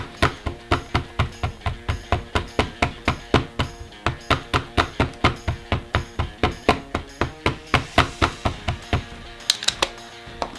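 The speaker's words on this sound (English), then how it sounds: "So we're going to stamp this a couple times." Detailed rubber stamp tapped repeatedly onto paper for embossing, a fast even series of close, crisp knocks, about three per second, continuing for around ten seconds.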